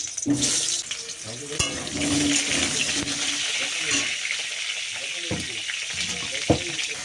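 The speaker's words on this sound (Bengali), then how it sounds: "তাহলে আলুটা ভেজে নিই আলুটা ভেজে নিই" Potatoes frying in a small amount of oil in a pan, a steady sizzle with repeated scraping and stirring clatters, close and moderately loud, with occasional sharp knocks of the utensil against the pan.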